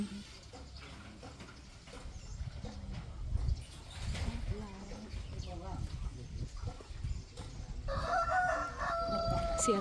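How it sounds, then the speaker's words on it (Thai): A rooster crows in a rural backyard vegetable garden in Buriram, Thailand, its call rising clearly near the end over a background of outdoor ambience and nearby talking. "ไก่ขัน"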